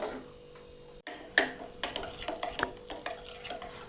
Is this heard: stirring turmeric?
yes